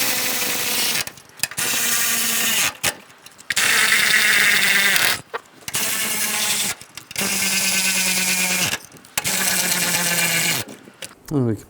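A power tool driving bolts to tighten a radiator fan assembly on a 2010-2017 Chevrolet Equinox, a loud whirring in several sustained bursts of a second or two, separated by brief silences.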